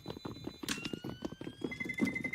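Horse hooves clip-clopping in Counter-Strike on the Inferno map, a quick steady run of soft thuds heard faintly from a distance over game tones and light background.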